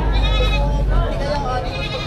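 A goat bleats in drawn-out, wavering calls at a busy livestock market, with a steady crowd murmur and low background noise under the cries.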